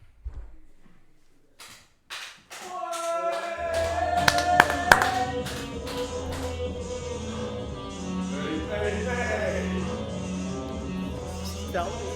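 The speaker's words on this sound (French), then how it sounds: "Faites attendre un applaudissement pour Kebalek, le vert." Crowd at an MMA league event's halftime show, with scattered sharp claps building into sustained noise over loud music and tonal sounds, reverberant arena atmosphere.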